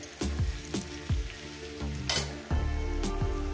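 Diced potatoes and pumpkin fry in oil in a pan for a Bengali chorchori, a steady close sizzle broken by several clanking stirs of a spatula against the pan, one brief louder hiss midway, no voices.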